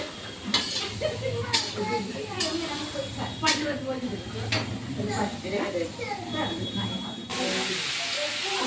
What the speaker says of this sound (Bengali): চিংড়ি রান্না হবে তাই আমি এখন ভেজে নিচ্ছি নুন আর হলুদ দিয়ে দিয়েছি